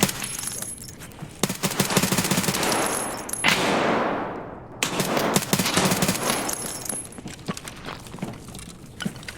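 Bursts of rapid gunfire in the shooter game SPT (Tarkov), loud and close, in dense volleys with a short gap. Then more shots crackle on with sharp, irregular reports.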